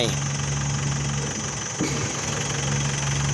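A car engine idles steadily at low revs during a hill-start driving lesson, a constant hum close by, with a brief thump partway through.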